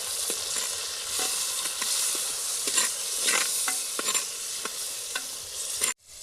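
Onion and tomato sizzle steadily in hot oil with cinnamon, cloves and mustard seeds, a dense continuous frying hiss broken by occasional scrapes of a stirring spoon, close by with no talking, cutting off abruptly near the end.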